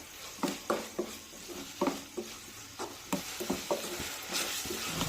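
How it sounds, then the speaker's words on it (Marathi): Spatula strokes stir besan bhurji with tomato and salt in a hot pan, giving a string of close scraping bursts over a steady oily sizzle, with no talking. "मिक्स करून घेऊया।"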